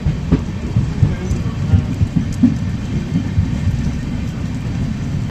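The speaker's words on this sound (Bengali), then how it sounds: "বৃষ্টি কিন্তু কন্টিনিউয়াসলি হয়েই যাচ্ছে।" Continuous rain falls during a night run of the 15675 Guwahati Intercity Express, a steady low rumble of the moving train with rain noise and scattered clicks over it.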